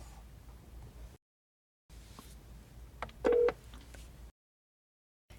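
A short burst of electronic phone dialing tones sounds through Apple CarPlay while returning a call from the recents list, separated by moments of silence.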